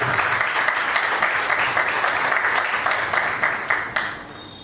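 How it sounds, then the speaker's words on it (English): Steady applause from a crowd at a company awards ceremony, a dense wash of clapping that holds evenly for several seconds, then thins out and fades toward the end. "Round of applause, people. Round of applause."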